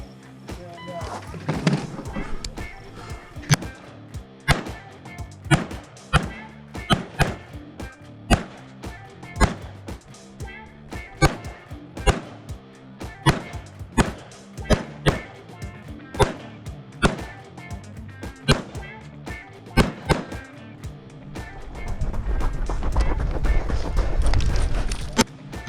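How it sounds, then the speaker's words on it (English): Rapid sharp gunshots from a small AR pistol, fired in quick irregular strings with brief pauses between bursts, loud and close, with a rumbling blast-heavy stretch near the end. "shot it again on that Arsenal Democracy, and it did great on that little AR pistol"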